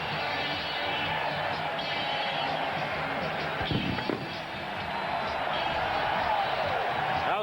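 Stadium crowd roaring at an NFL football game between the Saints and Patriots after a Patriots touchdown, a dense sustained cheer filling the space with a brief thump partway through and a steady wash of noise throughout.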